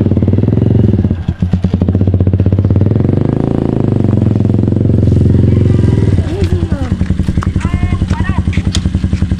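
Motorcycle engine idling with a steady low, pulsing rumble close by, running throughout while people talk over it near a roadside parking area.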